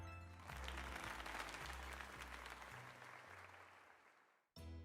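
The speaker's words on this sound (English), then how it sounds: "let us give another heartfelt round of applause to him" Applause of many hands rises quickly into a full, steady patter and fades over a few seconds before stopping abruptly, with a low musical tone sounding beneath it.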